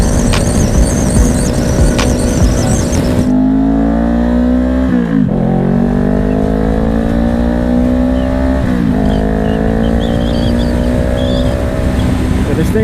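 A 2020 Honda CBR 500R motorcycle revs up through the gears, its engine note climbing in steady sweeps with brief dips at each shift, loud and close under wind rush.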